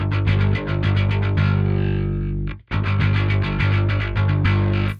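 A guitar plays through the Neural DSP Parallax X plugin set to high distortion, with loud, dense, fuzzy chugging riffs, a brief cutoff near the middle, then the heavy riffing resumes.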